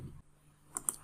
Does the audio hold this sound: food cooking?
no